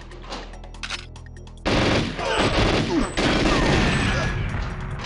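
Automatic gunfire from the player's weapon in GoldenEye 007, a loud, dense stream of rapid shots that starts abruptly after a quieter stretch and keeps going with brief breaks.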